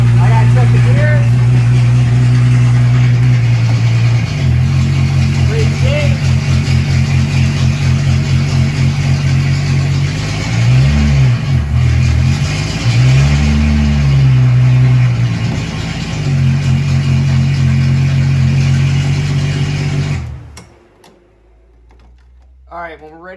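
A Mercedes engine, in a shop working on an E55, SLK and CLK55 AMG, runs loud and close after a new battery install, holding a steady idle with a couple of blips of revving before cutting off abruptly near the end.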